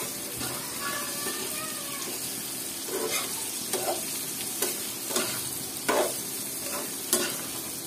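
Tengra fish fries with spice masala in a pan, a steady close sizzle cut by rhythmic scraping stirs, with no talking.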